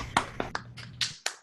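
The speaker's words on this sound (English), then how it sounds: "we need to give a big round of applause to Saha because she's the one who really." A handful of separate hand claps in a class, sparse and uneven, about six sharp claps over a moment, fairly close and with quiet gaps between them, suggesting only a few people clapping.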